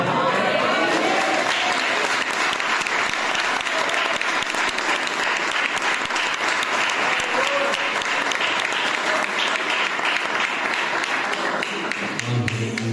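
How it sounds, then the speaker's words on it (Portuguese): A church congregation applauds loudly and continuously, a dense wash of many hands clapping together that holds steady for several seconds before tapering off near the end. "as palmas são para Jesus de Nazaré"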